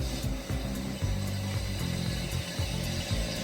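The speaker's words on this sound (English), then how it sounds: "The top post change to diamond cutter automatically." An automatic alloy wheel repair machine switches its top post to a diamond cutter, giving a steady close mechanical whir with clicking and stepped motor tones.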